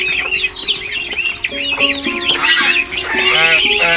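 Chickens and small chicks on a village farm make dense, overlapping clucks and bright high peeps close by. The calls come in rapid, uneven bursts and grow louder toward the end.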